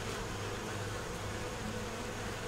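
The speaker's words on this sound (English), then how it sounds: "See if we can get little bees back in there." A soft, unbroken drone of bees buzzing nearby, low in level and steady throughout.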